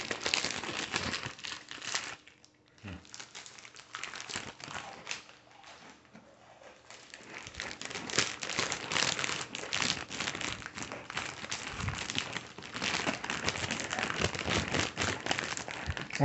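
Girl Scouts Oatmeal Peanut Butter cookie packaging crinkles and crackles steadily as it is opened one-handed, a close, busy rustle that dips briefly in the middle before continuing loudly.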